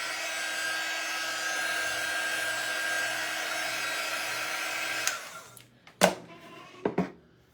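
A heat tool blows steadily and fairly loudly to dry a chalk paste transfer on a lampshade, then cuts off around the fifth second, leaving a few short knocks and handling sounds.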